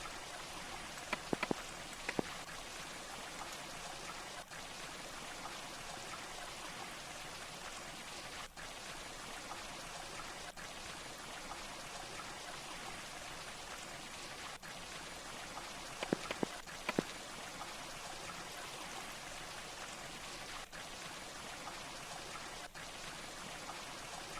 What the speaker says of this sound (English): because of the sound of the water